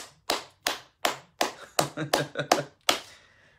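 About eight sharp claps in an uneven run for Enzo Lawrence, young Haitian football player, at a federation gathering, each a bright distinct slap with brief gaps, moderately loud and close, with no talk over them.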